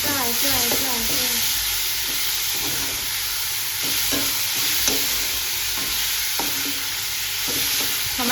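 Tomatoes frying and being stirred in a pan for a soybean bhaji, with a steady sizzle and repeated scraping strokes of the spoon close up throughout, no talking.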